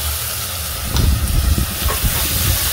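Chopped medium onions with salt, cumin and black pepper sizzle and hiss steadily in a hot frying pan, a close, continuous crackle that grows busier after the first second.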